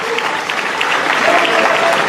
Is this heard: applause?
yes